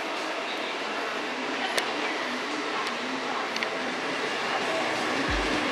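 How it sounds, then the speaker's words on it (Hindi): Steady rumble of a train rolling into a station in Goa, with faint metallic clicks and a low squeal near the end; distant voices murmur underneath. "मेरी ट्रेन आ गई है"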